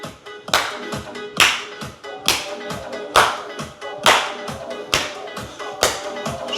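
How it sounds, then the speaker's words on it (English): Crisp hand claps during a beginner cardio workout side-step move, landing in a steady rhythm roughly every 0.9 seconds over light background music, close and clear. "Side step with clap."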